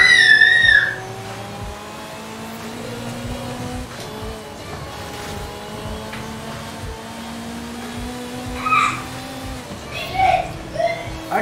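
Ferrari F40 cars racing on a wet track in Forza Horizon 5, with engine notes rising and falling through gear changes and short tire squeals and skids near the end, while someone talks over the game sound.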